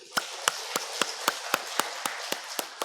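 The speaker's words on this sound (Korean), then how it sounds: "우리는 박수로 찬양합시다." A church congregation claps together in praise, steady regular claps about every quarter second, bright and sharp against a low room murmur, with no voices over them.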